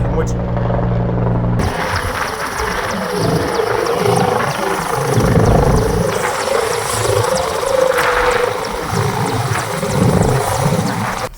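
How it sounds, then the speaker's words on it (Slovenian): A helicopter delivering food and water to cut-off areas during a disaster relief effort, its rotor throbbing steadily and loudly throughout, with talking mixed in over it. "V zadnjem slišimo helikopter, ki dostavlja hrano in vodo"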